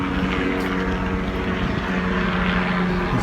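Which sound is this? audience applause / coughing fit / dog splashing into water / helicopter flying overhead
helicopter flying overhead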